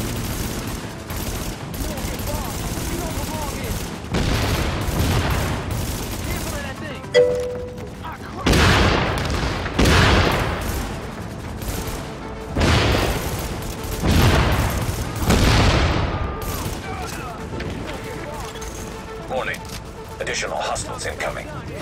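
Loud video game gunfire comes in repeated bursts and booming volleys with brief gaps, and a voice talks over parts of it.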